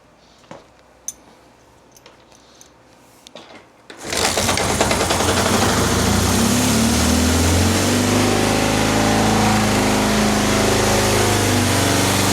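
Quiet clicks and light handling noises come first. Then a Kawasaki KZ650 motorcycle engine fires up during a carburetor sync and settles into a loud, steady, rapid-ticking idle that runs to the end.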